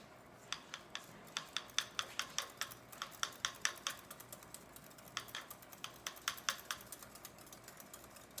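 Butter is stirred into a whisked mixture for dinner rolls, making a quiet run of quick rhythmic clicks and scrapes against the bowl in short bursts, with no voices.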